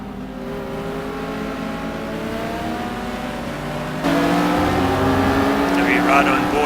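Race car engines in a sim racing game, including a Ferrari 458, drone and rise steadily in pitch through the gears, louder after a sudden cut, with a commentator talking over them.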